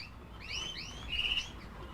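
A red canary in a breeding cage gives a few quick, bright chirps and short rising tweets, close and fairly clear over a soft background hiss.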